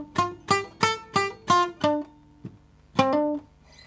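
A palm-muted hip hop riff picked on an acoustic guitar in first position, a run of six even, punchy plucked hits, a soft lone note, then a final double stab that rings briefly before silence.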